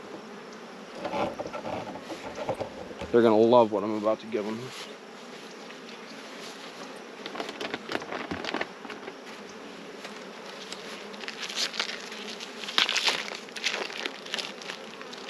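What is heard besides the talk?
honeybees buzzing in a hive box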